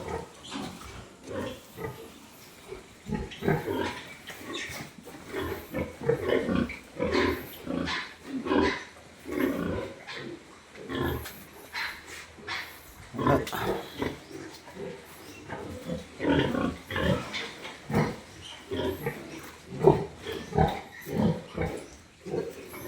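Pigs in a farm pen grunt and snort steadily from close by, with overlapping calls and no voices.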